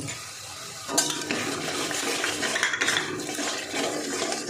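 Spice paste with ground cashews stir-fried in a pan, a close, continuous sizzle with scraping and stirring clatter of a spoon against the pan that begins sharply after a quiet moment; no voices.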